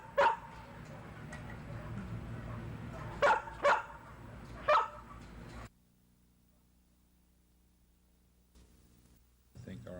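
Racing dogs bark in a few sharp, close bursts over a murmur of background noise, then the sound cuts to near silence before picking up again at the very end.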